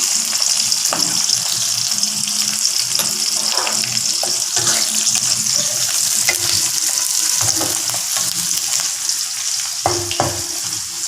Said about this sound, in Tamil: வெங்காயம் வதக்கிட்டு